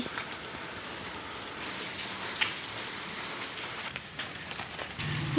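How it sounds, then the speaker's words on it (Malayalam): Heavy rain patters steadily on a surface, a constant close hiss of drops with no voices. "നല്ല മഴയുണ്ട്"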